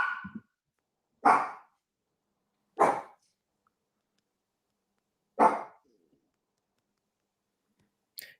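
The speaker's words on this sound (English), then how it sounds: "not the dog barking." A dog barks four times, single sharp woofs spaced a second or two apart, with silence between them.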